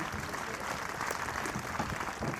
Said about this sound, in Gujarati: જોરદાર તાળીઓથી એકવાર વધાવીએ.